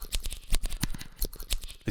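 Scissors foley standing in for hi-hats in a dark minimal drum and bass beat, sharp metallic snips repeating in a quick rhythm with a faint ping-pong delay, close and alone.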